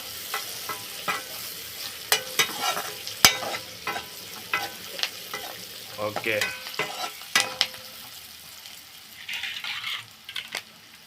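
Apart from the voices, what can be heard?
curry leaves sizzling in tempering being stirred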